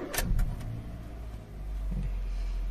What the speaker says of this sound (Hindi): तो अभी करते हैं गाड़ी स्टार्ट